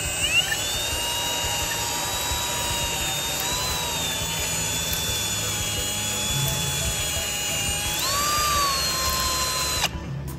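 A sudden valve guide hone works the valve guides of a 1955 Chrysler Crown M47-S marine engine, a loud continuous drill-like whine with pitch wobbling and rising near the end before stopping abruptly.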